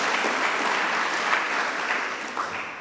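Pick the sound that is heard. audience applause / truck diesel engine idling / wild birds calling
audience applause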